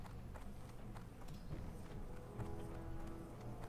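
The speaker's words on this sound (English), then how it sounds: "Horses" Horse hooves clip-clop steadily at a walking pace in a medieval town scene, quiet and somewhat distant, blended into a busy ambient backdrop without speech.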